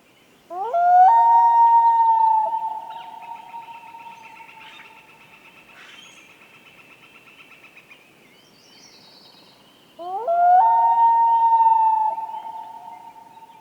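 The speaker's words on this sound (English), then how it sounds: "here is a recording that Matthew made of loons in the boundary waters of Minnesota." Long, rising wails of loons carry across open water in the Boundary Waters of Minnesota, two calls separated by a quiet stretch, with faint higher bird notes in between.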